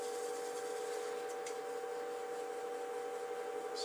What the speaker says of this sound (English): use some of that sanding lubricant or abrasive paste to really polish the inside